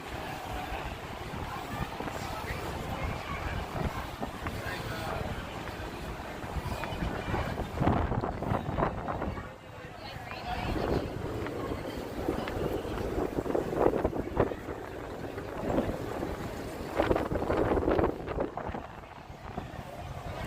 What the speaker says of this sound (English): Wow, it's windy over here.